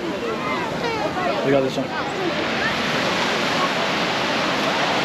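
Large ocean waves break on a windy beach at Kélibia, Tunisia, making a steady, loud wash of surf, with people talking over it.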